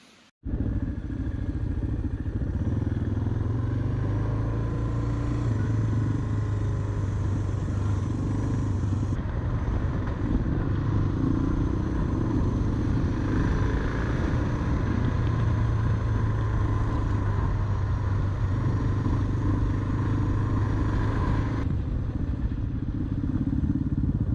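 Motorcycle on a minimalist motocamping trip cruising along pavement between dirt sections, a steady loud engine drone with wind rush throughout, continuous and close, with no talking.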